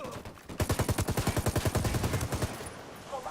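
Rapid bursts of automatic gunfire from enemies in the video game Ghost Recon Wildlands, a loud rhythmic string of shots rattling steadily for about two seconds before cutting off.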